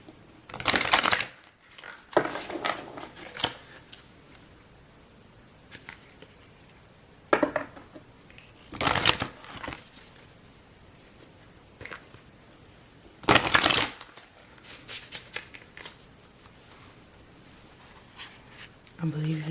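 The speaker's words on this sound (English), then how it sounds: "This is the last one that I shuffled. I tried to shuffle because they are very big" A large oracle card deck being shuffled, with several short bursts of riffling and rustling card noise spaced apart, close and crisp, between quieter handling sounds.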